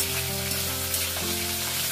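Fish sizzling in plenty of hot mustard oil in a wok, a dense, even frying hiss with small pops and a faint low hum beneath, heard up close without talk.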